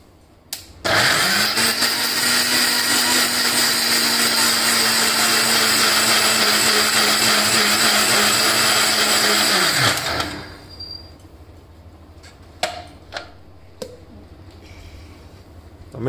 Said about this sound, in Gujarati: અને મિક્સરમાં એનો પલ્પ તૈયાર કરી લઈશું.